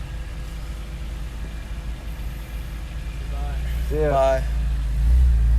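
A truck engine idles with a low, continuous rumble that grows louder toward the end as it revs, while voices briefly talk and a short rising tonal sound passes over it.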